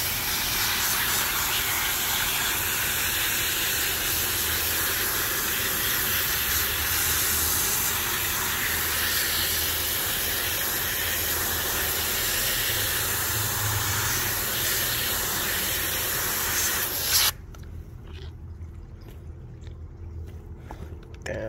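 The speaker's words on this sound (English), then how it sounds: "I'm gonna rinse it from the other side, pushing out, so pushing this way, that way all that gunk just falls right out" Water sprays hard to rinse gunk out of a car part during a 2010 Hyundai Genesis sedan suspension job, a loud, continuous, close hiss lasting about 17 seconds before cutting off to quiet background.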